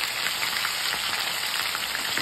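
Meat frying in a pan for haleem, a steady bright sizzle with soft crackles, even and close, no voices.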